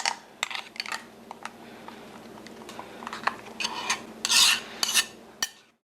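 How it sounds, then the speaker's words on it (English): A spoon stirs a mixture in a kitchen, giving close, quiet scraping and rasping strokes in an uneven rhythm, with a few brighter scrapes toward the end before it stops. "Find your spoon. Stir it up pretty good."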